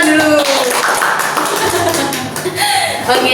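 Group of students clapping together in a counseling class session, dense and continuous, with voices and chatter mixed in underneath throughout.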